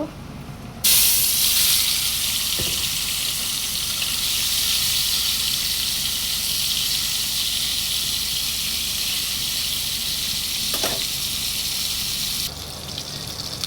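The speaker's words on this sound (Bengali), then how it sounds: "তেলের ভিতরে এখন মাছগুলো দিয়ে দিব" Marinated poa fish sizzle in hot oil, a loud, steady crackling hiss that rises sharply as the fish go in and runs evenly before dropping away near the end.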